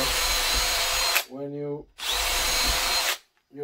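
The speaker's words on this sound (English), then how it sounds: "making the holes, do not forget to countersink." A power drill bores holes through dry pallet wood, two loud grinding bursts of about a second each separated by brief pauses, with someone speaking briefly between them.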